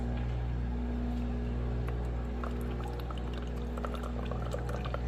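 A Ninja Cafe Luxe coffee maker running a slow rinse cycle gives a steady, fairly quiet hum with water trickling and pouring throughout, occasional faint clicks and drips rising over the constant drone.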